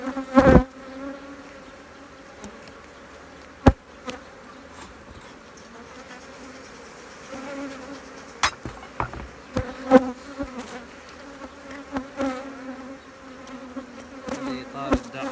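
Honeybees buzz around an opened hive during a beekeeper's frame inspection, a dense steady drone with occasional nearby bees passing close and brief knocks of handling.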